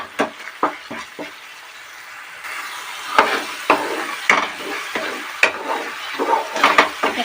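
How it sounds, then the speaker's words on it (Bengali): Chicken masala is stir-fried in a pan for a chicken kasha dish: a steady sizzle punctuated by repeated sharp scrapes and knocks of a spatula against the pan. "মশলাটা আরও কিছুক্ষণ কষাতে হবে।"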